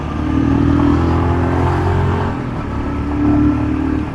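A Royal Enfield Scram 411 motorcycle, sharing the Himalayan's 411 engine platform, runs with a loud, close, continuous engine drone that swells slightly twice as it revs, with no voices over it.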